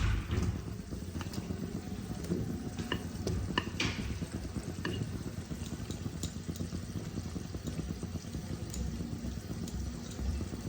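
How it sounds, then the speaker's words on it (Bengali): Fried potatoes and pointed gourd going into a boiling fish curry in a Bengali kitchen, with a steady bubbling sizzle throughout and faint clinks of a utensil against the pot, no voices. "এই যে ভাজা আলু পটলগুলোকে ছেড়ে দিলাম।"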